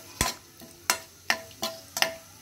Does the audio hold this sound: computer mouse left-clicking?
no